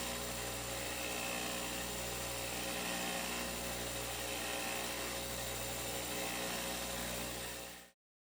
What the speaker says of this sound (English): Once they're set, it's back to sanding to clean them up again.